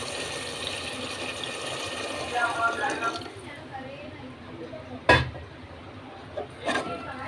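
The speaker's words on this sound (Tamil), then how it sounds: "கொஞ்சோண்டு தண்ணி ஊற்றி வேக விடலாம்" Water poured into a pan of sautéed turkey berries for a simple South Indian turkey berry curry, a brief splashing pour near the start followed by sizzling and a couple of sharp clatters.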